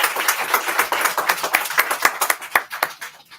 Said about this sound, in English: You don't have to clap too hard